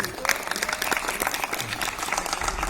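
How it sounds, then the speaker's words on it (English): Steady applause from a crowd at a pageant grand finale fashion show, dense and continuous clapping throughout with a few faint voices mixed in. "they deserve a huge round of applause"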